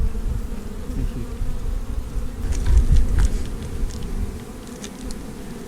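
Steady buzzing of many bees fills the air outdoors in the Warrumbungles, a continuous low hum with occasional louder passes close by.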